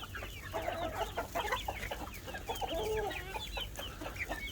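Brahma chickens in a coop cluck and murmur in short, busy bursts, several birds calling close by over a low background rumble.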